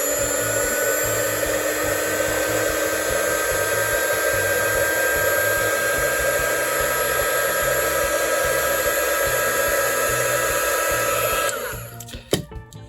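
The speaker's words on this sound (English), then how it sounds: "So I'm going to heat shrink sleeve these just because it's neater than insulation tape." A heat gun blows steadily at close range while shrinking heat-shrink sleeves over soldered wires during console modding, a continuous airy whine and hiss that cuts off near the end, followed by a few handling clicks.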